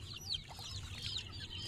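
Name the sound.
many chicks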